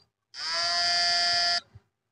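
A MOSFET Z44N electric fish stunner under a 1000 W test, giving a loud, steady high-pitched electronic buzz that starts abruptly, holds for just over a second, then cuts off cleanly.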